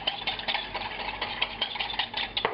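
A spoon stirs melted butter mixed with Beaumont seasoning in a small bowl, a brisk run of light scraping and clinking strokes, close and fairly quiet, with no voices.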